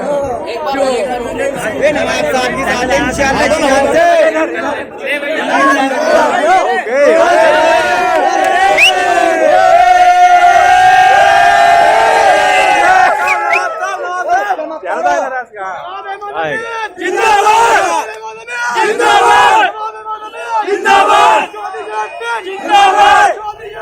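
A large crowd at a political rally shouts, cheers and chatters close by, loud and continuous, with chanted cries swelling in the middle and bursts of voices later.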